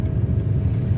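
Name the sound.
Toyota Fortuner car overtaking on mountain road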